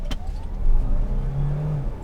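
A Kia Sportage plug-in hybrid with a 1.6 petrol engine pulls away from traffic lights, its engine rising in a brief, close, steady growl as the car accelerates.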